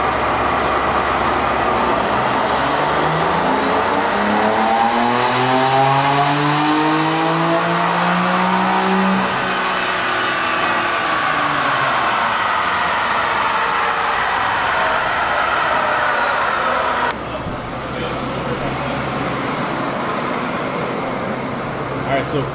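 A BMW F82 M4 with an EcuTek tune runs on a dyno, its engine note climbing steadily through the revs in a long, loud pull before cutting off abruptly near the end.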